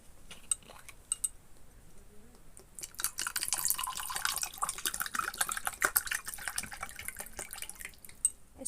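Cold water poured into a glass over a paste for a sugar-free drink: a broad, steady splashing stream runs for several seconds after a few faint drips and clinks, close and moderately loud with no talk.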